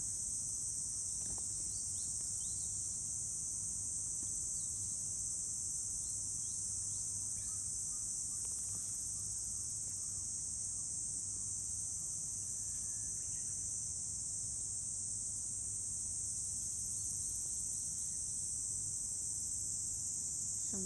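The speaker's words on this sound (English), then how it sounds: "Something from the insects. I don't know what kind of." Crickets chirp in a steady, high, continuous trill outdoors on a morning, holding an even level for the whole stretch with no talking.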